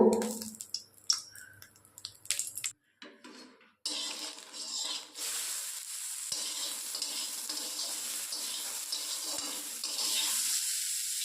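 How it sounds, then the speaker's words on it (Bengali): Capsicum and beans frying in hot oil, a loud, steady bright sizzle that builds after a few clattering stirs and pauses, continuing strongly to the end. "এরপর আমরা ভেজে নেব একে একে করে ক্যাপসিকাম আর বিনস"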